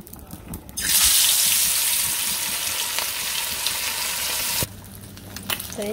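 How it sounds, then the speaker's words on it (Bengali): Mustard-marinated fish hits hot oil in a wok, and a loud burst of sizzling starts near one second and stays strong and even for about four seconds before dropping off abruptly to quieter kitchen noise. "তখন মাছগুলো দিয়ে দিই কড়াইতে। তেল গরম হয়ে গেছে।"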